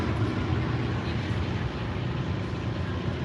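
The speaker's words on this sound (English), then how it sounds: "That was a regional aircraft." A regional airliner passing at DCA airport, a steady broadband jet roar that stays loud and even throughout with no clear rise or fade.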